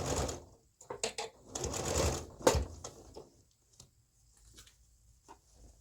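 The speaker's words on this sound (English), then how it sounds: "now I'm going to start sewing the other side of the jacket" A sewing machine stitching the other side of a jacket, running in short close bursts of rapid needle clatter that stop and restart, followed by quieter handling taps.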